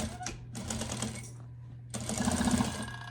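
Sewing machine backstitching through a quilted iPad holder pouch with hardware, short bursts of close mechanical stitching that stop and restart, with a brief pause in the middle.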